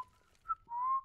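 A person whistles a few short, clear notes: a steady tone, a quick higher chirp, then a longer sustained note that slides slightly upward, close and solo.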